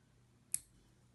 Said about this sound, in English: we're just using a nail clipper. I'm just gonna cut little strips of this.